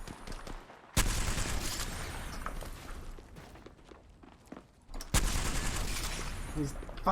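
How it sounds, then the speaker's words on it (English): Bursts of gunfire in a first-person shooter video game, two loud sustained volleys separated by quieter scattered shots and movement sounds. "Getting shot at."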